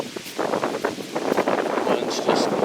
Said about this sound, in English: it's just probably gusting at 30 right here.